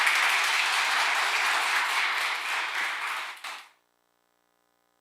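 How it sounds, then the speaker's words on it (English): Applause from a live real estate workshop audience, a full round of many hands clapping that holds steady, thins out near the end and stops abruptly into silence. "Let's give Dana a round of applause."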